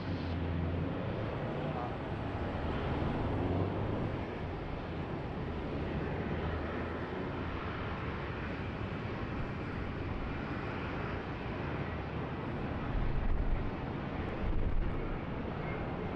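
An airliner takes off from runway 34 Left at Sydney Airport, a loud broad jet roar that holds steady and swells slightly near the end, with faint voices underneath.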